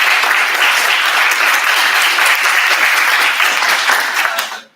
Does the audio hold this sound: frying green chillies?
no